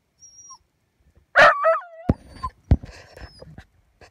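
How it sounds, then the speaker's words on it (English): A dog gives a few short yips and whimpering barks with rising, whiny pitch, one louder burst followed by smaller calls, fairly close in an outdoor setting. "There's what Ivy's barking at."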